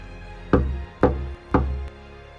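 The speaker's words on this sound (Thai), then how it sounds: "จันตา หยิบไม้ไผ่ที่ตีบอกสัญญาณขึ้นมา พูดจาตกลงกับทองและหินเรียบร้อยแล้วเคาะสัญญาณลงไป" A bamboo signal stick struck three times at an even, unhurried pace, each hit a loud, hollow knock close by, with a faint extra tap after the last.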